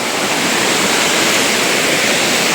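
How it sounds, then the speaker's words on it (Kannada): A rain-swollen monsoon waterfall in Chikkamagalur roars as a loud, dense, unbroken rush of falling water heard up close, with no voices. "ನೋಡ್ಬೋದು ವಾಟರ್ ಫ್ಲೋ ಹೇಗಿದೆ ಅಂತ"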